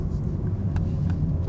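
A 2021 BMW M3 Competition on the move, heard as a steady low engine and road rumble from inside the cabin, even and continuous with a couple of faint clicks.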